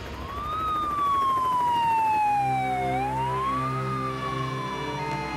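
Ambulance sirens wail near Zeebrugge while the wounded are carried away after a ferry disaster, a loud two-tone siren sliding up and down steadily over a continuous rumble of traffic and engines.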